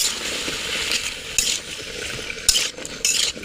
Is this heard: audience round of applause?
no